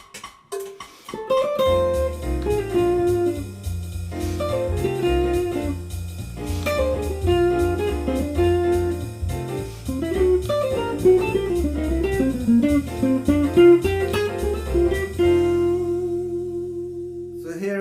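A jazz guitar plays a quick, flowing bebop line from an F blues alone, a steady stream of single notes with small pauses, ending on a held chord.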